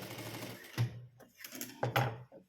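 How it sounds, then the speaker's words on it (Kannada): A sewing machine stitches black thread through a printed blouse, running in short close bursts with brief pauses between them, loud and alone without any talk. "ಇದ್ರ ಮೇಲೆ ಇನ್ನೊಂದು ಸ್ಟಿಚ್ನ ಈ ರೀತಿಯಾಗಿ ಹಾಕ್ಕೊಂಡ್ರೆ ಗಟ್ಟಿಯಾಗಿ ಸಿಕ್ಕಿರಾಗುತ್ತೆ"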